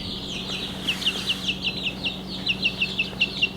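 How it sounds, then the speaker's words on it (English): Older laying hens cluck inside a backyard chicken coop, a run of short, evenly spaced clucks in two quick bursts over low steady background hum. "a chicken coop where we have some of our older laying hens"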